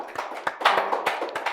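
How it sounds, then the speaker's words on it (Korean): Clapping at a church family-worship webinar as the next presenter comes forward; a few distinct, scattered claps from a small group, close and uneven rather than a full crowd. "나오실 때 큰 박수 부탁드리겠습니다."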